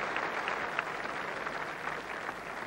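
Applause from a large crowd at Old Trafford cricket ground, a steady broad wash of clapping held at a fairly even, distant level throughout with no voices standing out.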